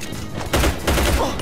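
Bursts of automatic gunfire in the video game Hazard Ops during a PvP match on a Rio favela map, two dense volleys close together within a second and a half, heard without speech.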